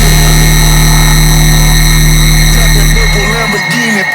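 Dry electronic DJ edit track with the reverb and delay chain switched off, a loud steady bass-heavy pulse with sustained tones, then cutting to a brief glitchy, choppy tail.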